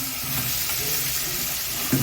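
Spiced meat with pepper, cumin and rosemary frying in a hot pan, giving a steady close sizzle with soft stirring scrapes underneath and a brief clunk at the end.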